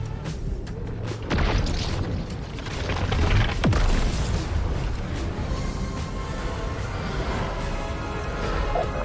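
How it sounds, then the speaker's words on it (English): Orbital cannons fire from a capital ship down onto the map in a video game: dense, rumbling blasts with one sharp descending whine and a heavy boom near the middle, then a steady roar. "Now you can fire orbital cannons down towards the map and straight up annihilate people."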